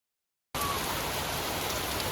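Water from a hose streams down through a metal rain chain outside a 1905 cottage, starting abruptly as a dense, steady hiss of splashing like heavy rain, close and loud with no voices.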